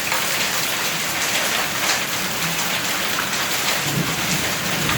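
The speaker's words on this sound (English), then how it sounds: "It's a hailstorm tonight." Hailstorm at night, hail falling hard in a dense, steady roar of ice hitting surfaces, loud and continuous with a low rumble underneath and no voices.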